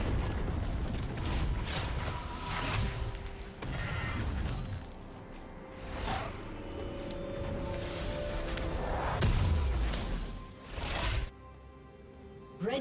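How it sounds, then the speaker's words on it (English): A League of Legends turret being destroyed, with heavy grinding, creaking collapse and booming crashes layered over continuous game ambience, then a sudden cutoff near the end. "Team's turret has been destroyed."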